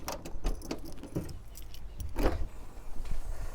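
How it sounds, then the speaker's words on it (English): Keys jangle and click in the boot lock of an Austin Metro and a Ford Fiesta Mk3, producing several sharp metallic rattles and clunks close by, with a louder burst near the middle, and no speech. "Accessing the boot in both cars requires the turn of the key."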